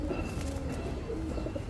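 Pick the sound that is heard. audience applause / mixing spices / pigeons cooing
pigeons cooing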